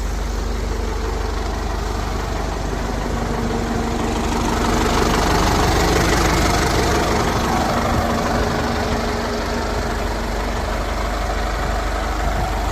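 A tractor engine idles close by with a loud, steady low rumble and faint knocking, swelling slightly midway before evening out again, with no talking.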